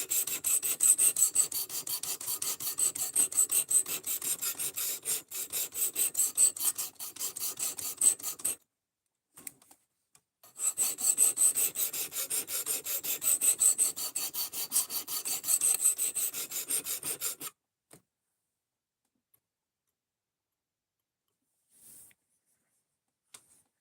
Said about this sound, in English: I don't know what the largest knife I can sharpen with this thing is yet.